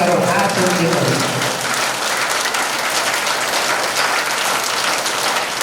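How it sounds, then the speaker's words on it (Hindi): A crowd gives loud, continuous clapping during a storytelling religious discourse, starting under a trailing voice and then carrying on alone as a thick, even wash. "जोरदार तालियां तो बजा दो एक बार"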